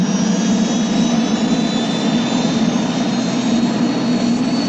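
A steady, loud turbine whine and broadband engine roar from a helicopter hold constant throughout, like it is passing close overhead, with no voices.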